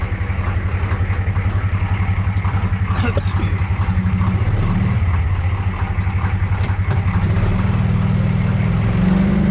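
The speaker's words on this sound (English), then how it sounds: "So I'll let that truck run a little bit." A pickup truck engine idles steadily in cold weather, a continuous low rumble with a regular pulsing beat that holds close and fairly loud, with faint background sounds above it and no talk over it.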